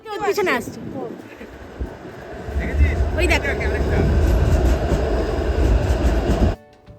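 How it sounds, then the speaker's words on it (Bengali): A streetcar rumbles past on a downtown Toronto street with a steady, swelling low roar that builds for several seconds and cuts off abruptly; a voice speaks briefly at the start. "ইহাদের নাম স্ট্রিট কার বাংলা কথায় যাকে আমরা বলি ট্রাম"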